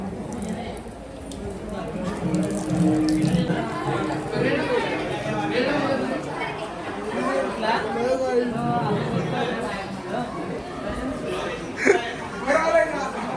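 Crowd chatter at a Hindu temple during Navratri: many overlapping voices murmur and call out in a dense, steady hubbub, with a sharper burst near the end.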